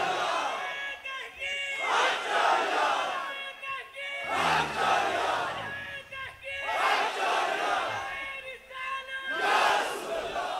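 A large rally crowd in Lahore shouts religious slogans in unison, repeated call-and-response bursts swelling and dropping in a steady rhythm, loud and massed throughout.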